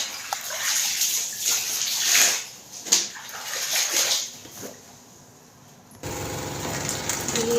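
Laundry washed by hand in a basin of water, with repeated sloshing, rubbing and splashing close by, louder bursts in the first half, then a duller steady wash of sound near the end.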